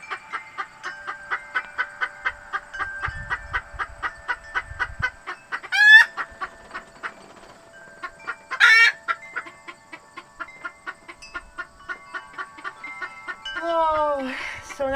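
Two pet hens indoors cluck in a steady, close rhythm of short calls, broken by a few louder squawks and a rising crow-like call near the end.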